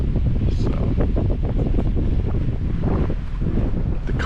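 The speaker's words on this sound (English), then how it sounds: "Wind is from the north." Strong wind buffets the microphone aboard a boat on the St. Lawrence River in the Thousand Islands, a loud continuous roar with a north wind and light waves.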